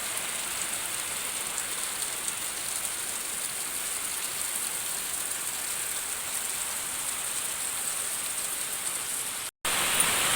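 Rain falling steadily, a soft even patter on surfaces outdoors, continuous and moderately faint throughout with a brief dropout near the end.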